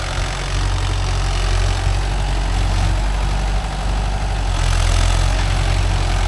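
Mahindra Yuvo Tech Plus 585 DI 4WD diesel tractor engine running steadily with a deep, loud, close rumble that holds constant throughout, with no voices.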